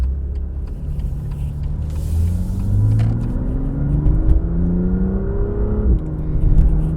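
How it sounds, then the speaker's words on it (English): A 2018 BMW M2 F87's 3-liter inline-six engine revs up from idle, its pitch climbing smoothly in a rising whine, then dropping and building again, loud and close. "The sound that resonates from that 3-liter inline 6, it sounds so good"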